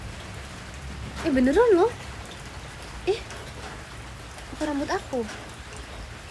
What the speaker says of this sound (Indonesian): kayak ada hujan-hujan gitu ya di belakang